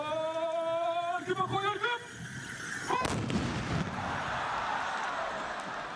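Sharp cracks of rifles firing blank powder charges ring out amid a sustained loud rumble of horses, following steady brassy tones; a synchronized burst of rifle fire from riders in Morocco echoes outdoors.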